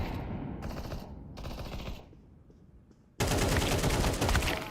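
Rapid video game gunfire in a deathmatch comes in dense automatic bursts, pausing briefly before a louder sustained volley, with no talking.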